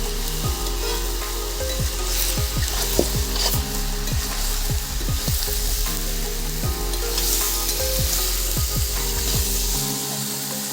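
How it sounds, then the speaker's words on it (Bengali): Chicken pieces fry in a pan while being mixed with spice masala for a village-style chicken curry, a loud steady sizzle overlaid by repeated scraping and stirring strokes of a ladle, with no voices. "এবারে দিয়ে দেব মাংস খুব ভালোভাবে মাংসের সাথে মশলাগুলো মাখিয়ে নিতে হবে"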